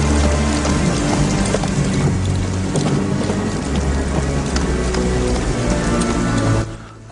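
Heavy rain falls at night in a film scene, a dense continuous hiss with low droning tones beneath it, ending abruptly just before the close.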